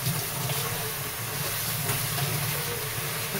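Onion hits hot oil in a pan for a Bihari-style chicken masala, giving a loud, continuous hissing sizzle that stays even throughout, close and alone without speech.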